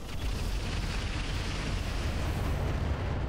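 Heavy PPC weapons firing in the Roguetech mech video game, a dense roaring, explosive rumble that stays loud and sustained for several seconds without pause or voices.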